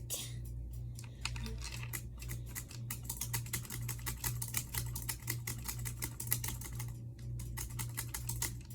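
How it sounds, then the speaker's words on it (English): Quiet, rapid keyboard typing with irregular bursts of clicking keys, close by over a low steady hum. "Sorry, I was typing."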